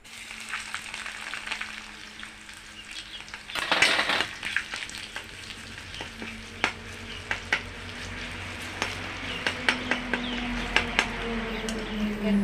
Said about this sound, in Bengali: এখন দিয়ে দেবো রসুন কটা